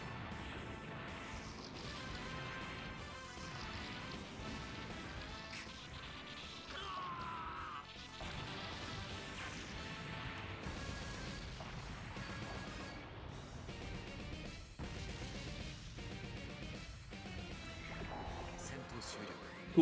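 Dense, continuous explosions and crashing impacts roar through a Gundam GGEn Cross Rays battle animation, layered over music and game effects at steady high loudness for the whole stretch.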